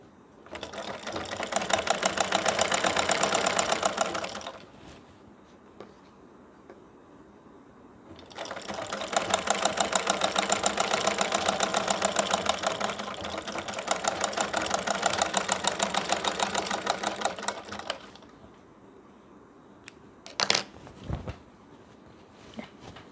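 A sewing machine stitches a baby napkin hanger in two long, steady runs of rapid, even needle chatter, separated and followed by quiet pauses and a few short bursts near the end.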